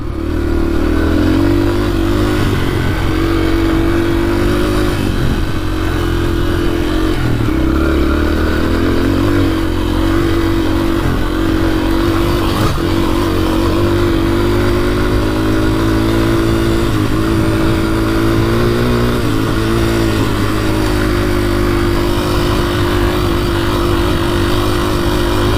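A dirt bike engine while riding at a medium pace: a loud, steady droning motor with shifting revs and clattering mechanical noise throughout, recorded close and with no talking.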